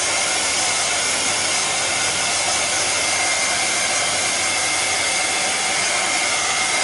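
A hair dryer blows on a craft project, giving a continuous, steady, loud airy whir that holds unchanged throughout with no talking.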